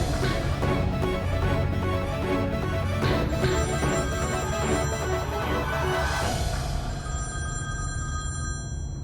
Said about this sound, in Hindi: आहाना मैम का फोन है।